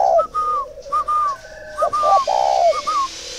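A young spotted dove coos close by in short, repeated whistling phrases separated by brief pauses, with no other sounds.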